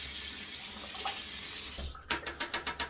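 Soap is rinsed under a running tap, with a steady hiss of water and then a quick series of rhythmic splashing pulses near the end, close and clear.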